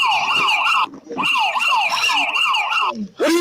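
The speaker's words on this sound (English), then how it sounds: "It's a security guard's panic alarm." A security guard's panic alarm siren wails loudly and continuously in rapid rising sweeps, cutting out briefly twice before starting up again.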